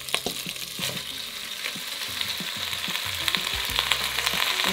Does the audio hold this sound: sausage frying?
yes